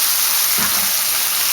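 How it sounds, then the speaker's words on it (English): Onions, tomato and jalapenos sauté in half a teaspoon of oil in a pan, a close, continuous bright sizzle with a faint stir partway through. "you're just going to saute this for a little bit"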